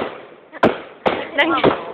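Fireworks go off over a sports center at night, four sharp booming bursts at irregular intervals, loud and close, with voices of onlookers mixed in between the blasts.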